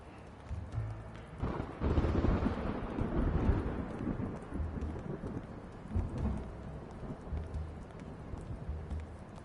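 Rain pours steadily on a city street in Blacksad Under the Skin, with low rumbles of thunder swelling and fading beneath the downpour.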